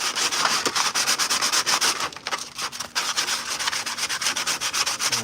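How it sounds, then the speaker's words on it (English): A piece of Purge Trooper armor is rubbed by hand across sandpaper taped to a workbench, a close, steady rasping scrape in quick repeated strokes with a brief pause midway and no talking. "I'll do a combination of hand sanding, and then I've got a piece of sandpaper taped to the table"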